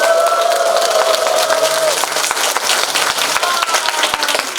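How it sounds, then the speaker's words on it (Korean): A seated crowd at a Buddhist memorial ceremony for the 82nd anniversary of Manhae Han Yong-un's death breaks into sustained applause with some cheering, dense and steady across the whole stretch. "환호를 담아서 우리 모두를 위하여 환호 한번 박수."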